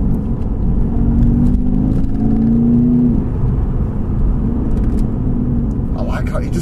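VW Scirocco 2.0 TDI 175 BHP with a remap drops a gear and pulls, a steady road rumble with a rising then falling engine tone, while people talk over it inside the car.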